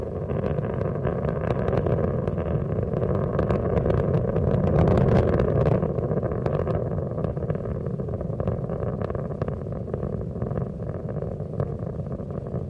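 The Space Shuttle Endeavour's three liquid-fuel main engines roar during launch while throttling back, a loud, continuous, rumbling blast that holds steady throughout.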